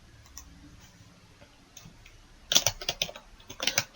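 Typing on a computer keyboard, entering an employee name into a web form. Soft, faint clicks are followed by a quick cluster of crisp, closer keystrokes near the end.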